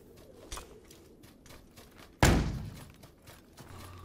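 Flashbang grenade going off in PUBG on PS4, a single sharp, loud bang cutting through quiet surroundings with scattered distant shots, then a decaying ring and rumble.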